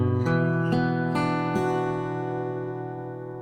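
A guitar chord from a song, with open third and first strings, struck or arpeggiated in four distinct attacks and left to ring and slowly fade, played alone and fairly clearly.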